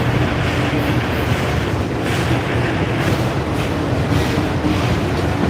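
A Norfolk Southern freight train rolls slowly through Dalton Rail Yard, producing a steady, loud rumble with a constant broadband roar and faint rhythmic clicks from passing cars, no voices.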